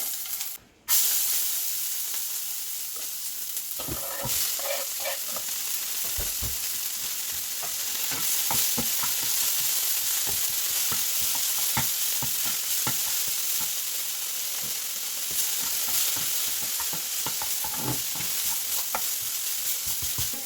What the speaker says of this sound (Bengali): এখন আমি একটু ধনে পাতা ভেজে নিব